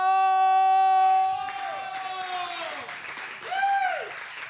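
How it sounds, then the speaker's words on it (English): Open mic crowd at a coffeehouse applauds after a sustained held tone ends. Scattered clapping fills the room, and a couple of rising-and-falling whooping cheers break through near the end. "Please give a round of applause to Michael!"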